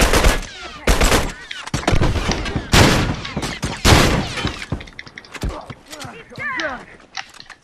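Gunfire rattles through a firefight in The Last of Us multiplayer, loud sharp shots and rapid bursts crowding the first half, then thinning into scattered shots and clatter as voices talk over it.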